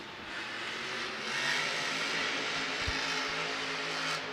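The Grave Digger monster truck's engine roars in a sustained, loud burnout at a Monster Jam freestyle event, a steady high-revving drone that swells slightly and carries amid broad arena noise.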